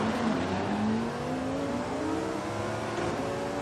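A Lamborghini Huracan STO in Forza Horizon 5, driven with a Logitech G920 wheel on Xbox Series X, accelerates hard with a loud, continuous engine whine. The pitch climbs steadily through a gear and stays strong throughout.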